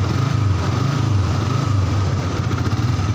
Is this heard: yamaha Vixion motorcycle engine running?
yes